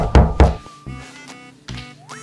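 Someone knocks on a door, two firm loud raps followed by a third after a pause, with a sustained tone and a rising whistle-like sound in the background.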